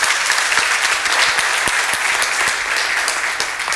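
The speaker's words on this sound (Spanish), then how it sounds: "Aplauda, que es para Dios." A church congregation applauds during a sermon, a dense, steady wash of many hands clapping together, loud and sustained for several seconds with a few sharper claps standing out.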